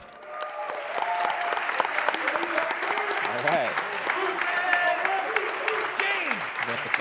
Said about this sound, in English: let's give a round of applause for Dolph Legend of Korra Run